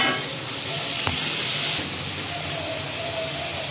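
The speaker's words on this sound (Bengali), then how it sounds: "সামান্য একটু জল দিয়ে দেবো" Water hits a hot pan holding boiled ash gourd, making a steady, close hissing sizzle that fills the whole stretch, with one brief sharp knock partway through.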